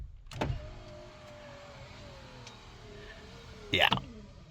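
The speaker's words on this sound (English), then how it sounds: "I know some of my window motors are slow." A slow power window motor in a Duramax truck whines steadily as it lowers the window, framed by a sharp click at the start and a louder clunk as it finishes.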